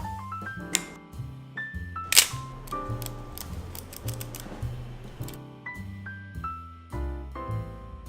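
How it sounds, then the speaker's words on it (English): A 35mm film camera is handled up close: sharp shutter-release clicks, ratcheting winds of the film advance lever repeated several times, and a firm snap as the back closes, with no talk. "Press the shutter release button. Continue this action until you find that the film roll is tight and then close the back of the camera."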